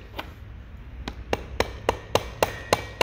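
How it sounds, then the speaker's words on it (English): Sharp taps seat a new oil seal into the timing cover of a Toyota 22RE engine, about nine evenly spaced hammer strikes working around the seal, close and clear with no talk. "Make sure to go around and hit opposite sides as you work and tapping it in"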